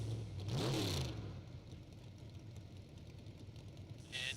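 Chevy Camaro drag car at the start line of a SuperBucks drag race, engine revving in a short rising burst near the start, then settling into a low, steady rumble with a faint whir returning at the end.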